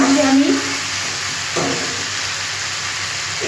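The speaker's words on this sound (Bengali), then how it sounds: "মশলা আলু কচু ভালো করে কষিয়ে নিয়েছি আমি।" Spices, potato and taro frying in oil in a pan, a steady broadband sizzle with faint scraping stir sounds, close and continuous without pauses.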